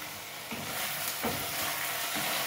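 Ground beef sizzling in hot oil in a pan for spaghetti sauce, a steady broadband frying hiss with soft stirring scrapes every second or so, close and continuous.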